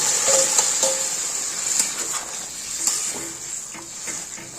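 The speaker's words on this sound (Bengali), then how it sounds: "এবার এখানে যে সেদ্ধ করা যে ডাল আছে, হাফের বেশি সেদ্ধ করা, তো সেই ডালটা ছেড়ে দিলাম।" Half-boiled moong dal poured into a pan of simmering katla fish head masala sets off a steady sizzle and hiss, with occasional stirring clinks of utensil on pan, close and alone.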